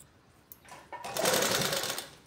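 A sewing machine stitching a blouse, with a couple of brief starts followed by a sustained whirring run of rapid stitches, close and alone.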